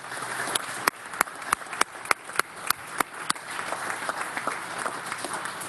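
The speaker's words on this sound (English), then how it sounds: "Let's please give them another round of applause." An audience applauds at a livestreamed completion celebration event, with sharp individual claps standing out over a dense, sustained round of clapping.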